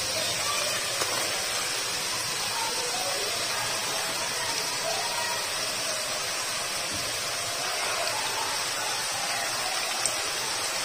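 Onion added to a hot pan while cooking an Afghani egg and potato dish, producing a continuous even hiss of sizzling that holds steady throughout with a few faint ticks.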